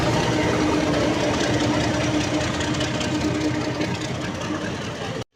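A diesel shunter locomotive idles during shunting at a railway platform at Howrah Junction, giving a steady, loud low rumble with a knocking throb that runs unbroken for about five seconds before cutting off.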